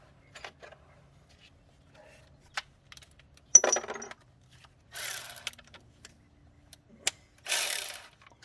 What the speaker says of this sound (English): we're gonna go ahead and bolt down our CV axle nut.